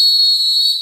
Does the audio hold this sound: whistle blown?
yes